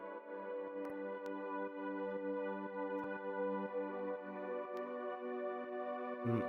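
A sustained, slowly evolving Omnisphere synth pad holds a warm chord steadily throughout, with no voices or percussion.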